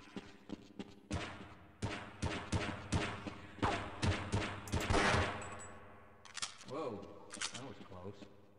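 In Half-Life 2 Episode 2, shotgun blasts and gunfire go off in a rapid series of sharp loud booms over several seconds, with a voice talking between the shots.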